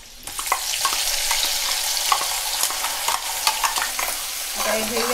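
Ground raw masala paste fries in hot oil over a high flame, a loud close sizzle with a spoon repeatedly scraping and stirring in an irregular rhythm, and no talking.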